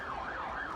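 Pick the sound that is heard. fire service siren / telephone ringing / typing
fire service siren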